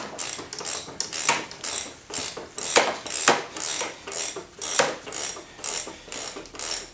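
A ratchet wrench works at the rear axle nut of a dirt bike, clicking in a steady repeated rhythm of short bursts, close and fairly loud, with no talking.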